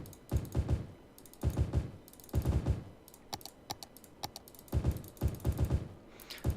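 Typing in short bursts on an old Apple keyboard, sharp clattering key clicks in rapid clusters separated by brief pauses, close and distinct, with no talking.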